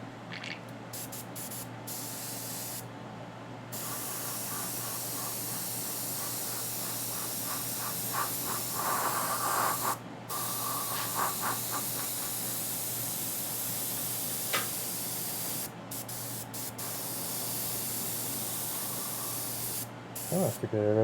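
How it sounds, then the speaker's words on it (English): Airbrush spraying varnish onto a plastic miniature figure, a continuous close hiss of compressed air that runs almost unbroken, with brief cutoffs and a few short clicks as the trigger is worked. "Oh, that's a good airbrush"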